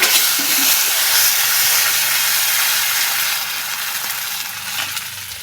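Water poured into a hot pan of ginger and cumin paste bursts into a loud, broad steaming hiss and sizzle that fades gradually over several seconds.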